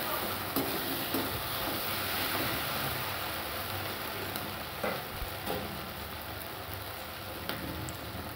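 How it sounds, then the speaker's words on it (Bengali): Ginger garlic paste frying in a pan while being stirred, early in making a chicken curry: a steady, close sizzling hiss runs throughout, broken by scattered scraping clicks and taps from the stirring utensil, with no voices. "পরিমাণ মতো আদা রসুন বাটা দিয়ে একসাথে নাড়াচাড়া করে একটু আদা রসুনটা ওর সাথে মিশিয়ে নেব"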